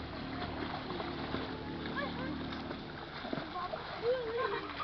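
A child splashes while swimming in a resort pool, with steady water churning throughout and people talking nearby over it.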